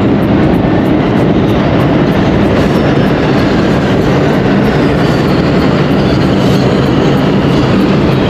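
A New York subway metro train roars loud and close in a dense, continuous rumble, with faint rhythmic wheel clicks running through it for the whole stretch and no talking over it.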